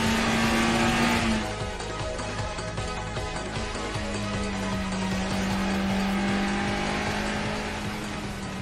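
An anime Toyota AE86 rolls up to a mountain race starting line: a loud engine tone that drops after about a second, then a lower droning note and a steady hum of motor and surrounding noise.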